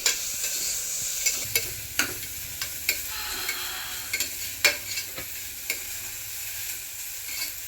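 Carrot, beans and capsicum sauté in a hot pan while a spoon stirs them, giving scattered sharp scrapes and taps over a continuous close sizzle, with no voices.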